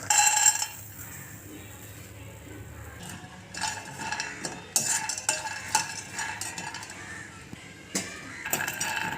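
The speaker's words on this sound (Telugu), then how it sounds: "పల్లీలు వేపుకుందాం అండి" Peanuts being dry-roasted in a pan for a sweet offering dish rattle and scrape as they are stirred, giving a scattered run of light clicks and metallic clinks, fairly close and moderate in level.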